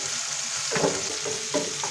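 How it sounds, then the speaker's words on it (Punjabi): Chopped tomatoes with salt frying in a pan under a steady sizzle, with a few scraping stirs of a spoon breaking in, close up and without talk. "ਜਦੋਂ ਤੱਕ ਟਮਾਟਰ ਸੌਫਟ ਨਹੀਂ ਹੁੰਦੇ ਉਦੋਂ ਤੱਕ ਇਹਨੂੰ ਭੁੰਨਦੇ ਹਾਂ।"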